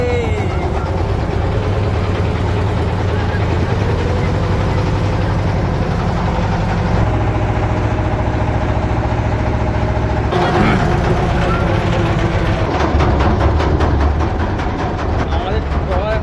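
A trawler boat's engine running on a canal around Swarupkathi, Bangladesh, a loud steady low drone that continues throughout, with people talking over it.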